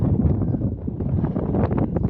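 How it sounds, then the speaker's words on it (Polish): Strong wind buffets the microphone at a high viewpoint on the Hel Peninsula, a loud, constant roaring rush with gusty flutter and no pauses. "Pomimo takiej pogody teraz wietrznej, że no zwiększa troszeczkę drżenie nóg."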